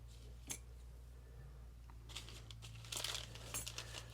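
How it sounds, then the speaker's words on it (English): Scissors trimming flashabou material while tying a coho fishing jig, giving a few short, crisp snips and crinkles spread across a quiet steady hum, close and faint. "I'll trim that off so it's just about at the edge there."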